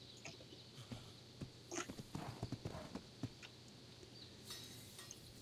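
A horse's hooves clip-clop on the ground in ARK Survival Evolved. The irregular, fairly close footfalls are clustered at mid-clip and sit over a steady low hum of game ambience.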